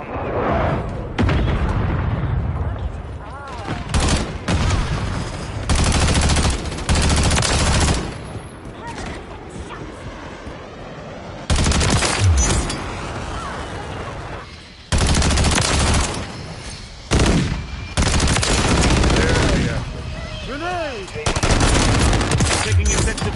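Repeated bursts of automatic gunfire and heavy shots from Call of Duty Modern Warfare 3 multiplayer on the Tanked map, loud and close, broken by brief lulls with faint game chatter.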